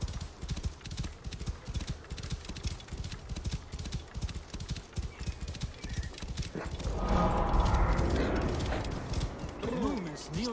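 Horse hooves clip-clopping steadily in Assassin's Creed Origins, a fast even rhythm of close hoofbeats, later joined by a loud whinny and rising ambient noise, with speech in the background.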